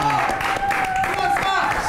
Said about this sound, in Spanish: les quiero que las recibamos con un fuerte aplauso a Lola, Lolita y Agustina